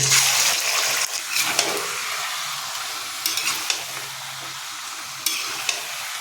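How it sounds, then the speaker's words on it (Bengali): Washed chicken pieces sizzle steadily in hot mustard oil, a dense close frying hiss broken by a few sharp clicks and scrapes from stirring, with no talk. "এই গরম তেলের মধ্যে আমরা দিয়ে রেখেছি ধুয়ে রাখা মাংসের টুকরোগুলো"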